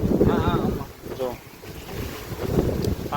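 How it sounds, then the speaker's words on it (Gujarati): Strong gusting wind roars through a rainstorm in Babra, loud and close with buffeting swells that dip and rise again, while a person speaks briefly over it. "બહુ પવન ઉડ્યો છે"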